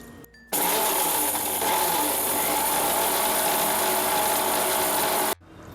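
A mixer grinder grinds warm roasted ingredients to a dry powder while making orange peel gojju, a steady loud whirring roar running almost the whole time after a short pause at the start and stopping abruptly near the end.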